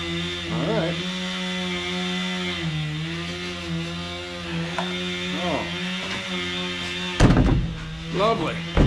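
A chainsaw engine runs steadily at a low idle with a continuous buzzing drone, close by, while a person talks over it and a sharp clunk breaks in near the end.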